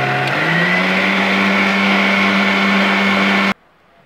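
An electric mixer whirs steadily through cake batter of eggs and lemon juice, a loud, even motor drone that holds for several seconds and then cuts off abruptly into near silence.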